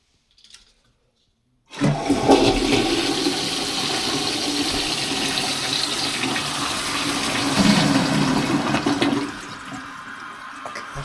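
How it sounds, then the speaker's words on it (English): A Wolff Superior X toilet installed in a plumbing shop flushes with a loud, close rush of water that starts abruptly after a brief quiet, holds steady for several seconds, then thins as the tank refills. "That flush is nice."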